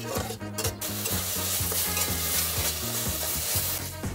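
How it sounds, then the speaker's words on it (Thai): Steady sizzling and the scrape of a utensil stirring Chinese sausage with a little water in a hot wok, a continuous frying hiss with rhythmic stirring strokes. "ใส่น้ำลงไปนิดนึงแล้วก็ตามด้วยกุนเชียงจากนั้นลวนไปเรื่อยๆเลยครับจนน้ำแห้ง"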